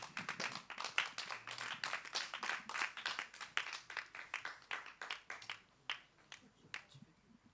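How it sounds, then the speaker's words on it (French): A small audience at an intimate couch concert gives scattered, uneven hand claps for the performer Sekel. The claps are fairly close, sharp and irregular, and they thin out toward the end. "on peut déjà l'applaudir, voilà, le temps qu'il se chauffe"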